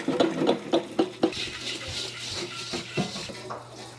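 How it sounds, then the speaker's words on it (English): A wok being scrubbed with a bamboo brush under running hot water at a kitchen sink: a quick series of scraping knocks and clatters over a steady rush of water, close and fairly loud. "Then take your bamboo brush. While the hot water is going, just scrub away."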